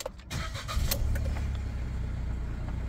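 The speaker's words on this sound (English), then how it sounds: "As we make our way up, I'll start the car." A 2019 Ford Ka+ 1.2 petrol hatchback cranks briefly and fires up, settling straight into a steady, moderately loud idle heard from inside the car with no talking.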